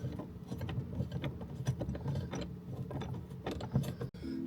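Tightening a bolt on a rail-style phone mount inside a Ford Ranger Raptor, with close, rapid ratcheting clicks in uneven bursts, ending in a sharp knock.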